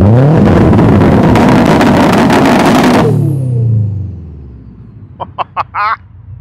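A tuned Subaru Impreza of over 600 horsepower revs hard, close and very loud, for about three seconds. The roar then dies away into a low idle, followed by a few brief voices.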